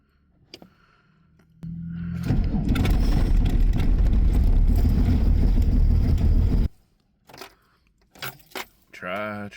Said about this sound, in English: You're getting a cold start. Yes, it takes a minute. It's an old diesel.